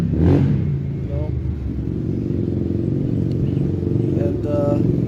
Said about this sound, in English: It's like people revving up bikes all the time.